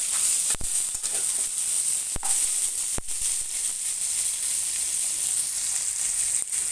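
Onions sizzling steadily in hot oil in a pan, a continuous bright frying hiss with a few sharp clicks and pops of utensil contact, no talking.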